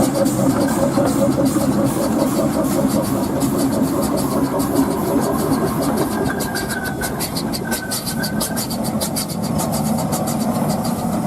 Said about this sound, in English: Always nice to see one of these little Wallace Advanced engines.